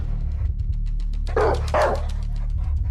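Several dogs bark fiercely in a rapid, loud, close burst of overlapping barks, used as a sound effect in a suspense audio drama about a ghost dog.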